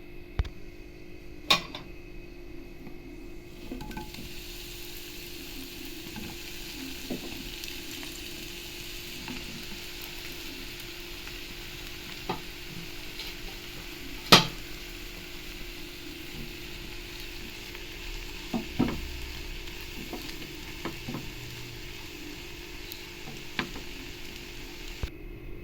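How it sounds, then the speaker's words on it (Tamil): Bread pieces fry in sunflower oil in a kadai for bread halwa, with a soft continuous sizzle and a few sharp clicks and taps of a utensil against the pan. "நம்ம எடுத்து வச்சுருக்கிற கட் பண்ணி வச்சுருக்கிற ப்ரெட் பீசஸை போட்டு நல்லா ப்ரௌன் கலர் ஆகிற வரைக்கும் இதை ஃப்ரை பண்ணிடலாம்"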